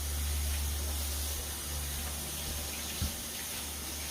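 Tap water running steadily into a kitchen sink, a continuous close hiss and splash with one brief knock partway through.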